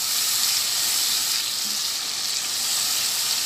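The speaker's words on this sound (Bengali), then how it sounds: "তো টমেটোটার সাথে আবারও দু তিন মিনিট মশলাগুলো কষিয়ে নিব" Tomato and spices sizzle steadily in a hot pan while being sautéed for a Bengali spicy omelette curry, a dense continuous hiss with no talk.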